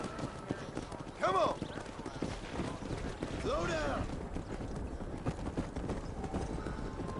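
Horse hooves clip-clop in the video game Red Dead Redemption, a steady rhythmic trot over a continuous ambient bed, with a couple of brief whinny-like calls.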